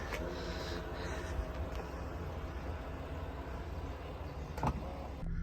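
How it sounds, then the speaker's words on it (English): A Land Rover Range Rover Sport 3.0 SDV6 HSE's electric tailgate opening, with a steady, close motor whir running throughout and a brief clunk near the end. "this car does also come with an electric tailgate"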